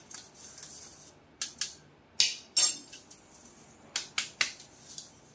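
A spoon presses and scrapes lumps of gram flour (besan) through a sieve, giving a series of short, sharp, close scratchy clinks in irregular bursts with quiet gaps between them.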